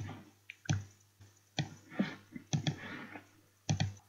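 Computer mouse buttons give sharp, close clicks, left and right in turn, spaced irregularly over a few seconds in a quiet room while coloring points are placed and deleted.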